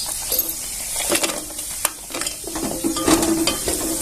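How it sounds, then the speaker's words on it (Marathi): Peanuts frying in a pan for sweet rice prasad, a close sizzle with scattered sharp pops and metallic stirring clinks against the pan, no speech. "शेंगदाणे छान असे फ्राय झालेले आहे बघा मस्तपैकी फुटू राहिलेले आहेत"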